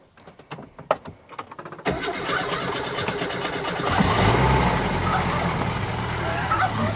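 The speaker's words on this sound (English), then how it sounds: "I'm going to start it up." An old bus engine cranks and catches after a few sharp knocks and clatters, then settles into a loud, steady rumbling idle that grows slightly fuller as it runs.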